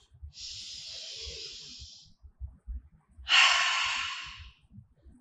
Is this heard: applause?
no